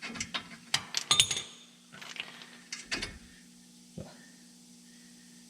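Metallic clicks and clanks of a wrench working an Allen head slider bolt free on a GM brake caliper of a 1978 Trans Am, a cluster of sharp knocks early, then a few scattered taps over a low steady hum.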